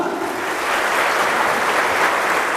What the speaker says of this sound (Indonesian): Haleluya, tepuk tangan untuk Tuhan.